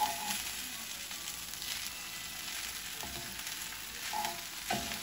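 Salmon fried rice with mayonnaise sizzles steadily in a hot pan while being stirred, a close, continuous hiss broken by a few utensil scrapes and no talking.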